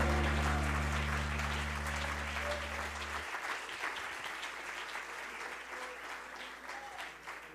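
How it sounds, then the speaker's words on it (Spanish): A church congregation breaks into loud applause that fades gradually, with organ-like sustained tones cutting off early and a lively clapping crowd continuing alone. "Un aplauso para Jesucristo."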